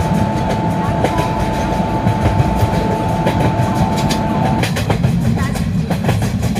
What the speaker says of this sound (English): Train number 12655 Hamsafar Superfast Express is scheduled to depart from platform